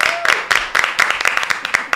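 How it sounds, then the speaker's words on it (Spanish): A studio audience on a talk show claps in quick, uneven bursts for about two seconds, fairly close and loud. "Un aplauso."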